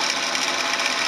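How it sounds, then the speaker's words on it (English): A sewing machine stitches a jeans sleeve vent, a steady, dense, whirring drone running unbroken and close for about a second with no talking. "We start stitching here."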